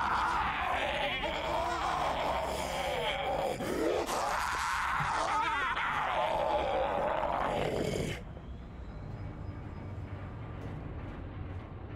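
Groaning, moaning pig creature in the horror video game Devour's slaughterhouse level, drawn-out wavering growls loud and continuous for about eight seconds before cutting off to quiet background hum.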